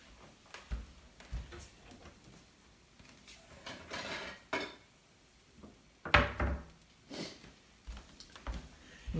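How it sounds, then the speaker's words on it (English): A plate taken out of a kitchen cupboard while eggs cook, with a few soft knocks and a sharper clatter of the door and crockery, close but quiet and spaced apart, no speech. "Get a plate out of the cupboard."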